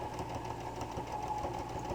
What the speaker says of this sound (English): So now I'm sewing this again.